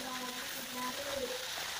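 Pindang fish fries in oil in a pan, a steady crackling sizzle that runs without a break, close and fairly loud, with faint tonal noise in the background.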